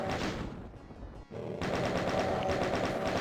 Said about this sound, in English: Take out your chain gun. There are a lot, and I mean a lot, of lost souls.